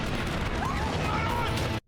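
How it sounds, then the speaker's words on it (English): An explosion in an animated show bursts out as a loud, dense, continuous roar of rumbling noise, blended with other soundtrack audio, before cutting off abruptly near the end. "Ooh, that explosion was really nice, actually."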